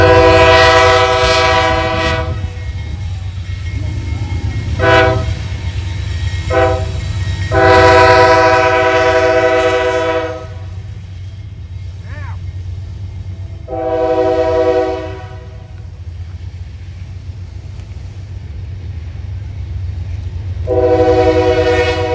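A Norfolk Southern autorack freight train rumbles past steadily on the Fostoria district while its horn blares in several long, loud blasts, with gaps of rolling rail noise between them.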